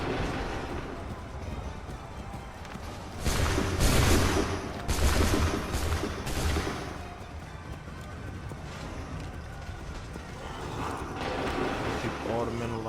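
Musket volleys crack out in Assassin's Creed III during a British versus American Revolution battle, two dense bursts of gunfire rising over a continuous clamor of battle noise and shouting voices.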